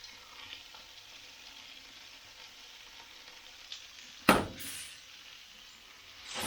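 Pasta, slightly stuck to the pan bottom, frying with roasted broccoli in olive oil, giving a steady soft sizzle that bursts louder midway as more food hits the hot pan, then keeps crackling.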